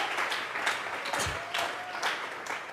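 A church congregation claps together during a Bible doctrine service, a dense, steady patter of many hands with faint voices mixed in.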